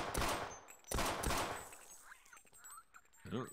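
Bursts of gunfire in the co-op shooter Sven Co-op: two loud, close volleys of rapid shots, then quieter scattered game noises and chirps, with another short burst at the end.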